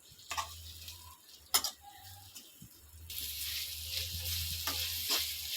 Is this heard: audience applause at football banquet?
no